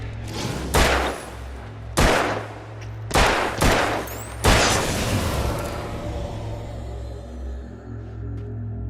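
Gunshots in the video game Alan Wake: about six loud, sharp blasts spaced roughly a second apart, some in quick pairs, each trailing into a booming echo before the sound settles into a low ambient hum.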